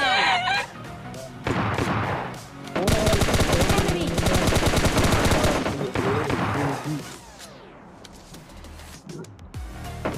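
Automatic weapon fire in the PUBG Lite online battle game, with rapid sustained bursts of shots rattling loudly and densely for several seconds before tapering off into quieter game sounds.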